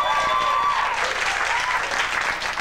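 A studio audience at a late-night comedy show breaks into loud, sustained applause, a dense wash of clapping that stays strong throughout before easing slightly near the end.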